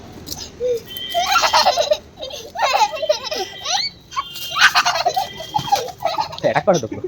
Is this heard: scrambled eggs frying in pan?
no